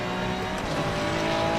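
A Ferrari race car in the Assetto Corsa Competizione racing game at Watkins Glen gives a continuous, loud engine drone with a steady pitch and a brief tire scrub, the car heard close up, with no talking over it.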